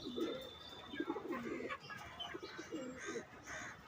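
Domestic pigeons coo close by in a run of repeated soft, throaty phrases, several overlapping calls with brief pauses between them and no speech.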